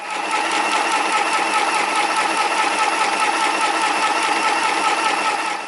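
A Janome mini sewing machine runs an overlock-style stitch along fabric, giving a continuous close, even whirring hum with a fast rapid needle clatter that holds steady throughout.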